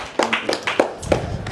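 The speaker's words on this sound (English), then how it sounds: "Let's clap for her." A few distinct claps, about four spaced hand strikes, from a small group of people at a children and family services gathering in Sierra Leone, fairly close and loud, with no talking over them.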